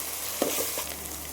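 Ginger-garlic paste sautés in a pan for a village-style fish curry: a continuous close sizzle with a brief scrape of stirring partway through.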